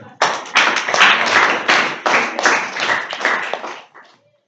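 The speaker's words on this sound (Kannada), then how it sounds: "ಹಿಂಗೆ ಚಪ್ಪಾಳೆ ಹೊಡ್ಕೊಂಡು" A group applauds in a classroom setting, a dense burst of hand clapping lasting about four seconds in uneven waves, close and loud, then stopping abruptly.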